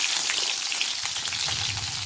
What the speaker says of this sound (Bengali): আলু ভাজা করছি।